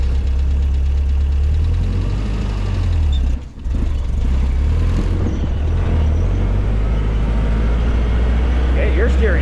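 A homemade buggy's engine runs loud and steady throughout, with a throttle pedal working it and the pitch rising and falling, a brief dip near the middle, and people talking faintly underneath.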